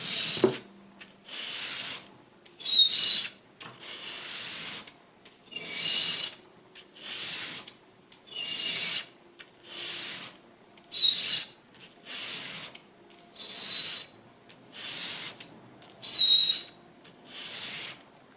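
A blade is sharpened back and forth on sandpaper with long, regular rasping strokes, about a dozen evenly spaced scrapes separated by brief pauses, close and clear with no talk.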